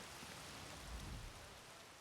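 Rain falling outdoors in The Elder Scrolls Online video game, a steady hiss of raindrops at moderate volume with a slight low swell midway, no voices.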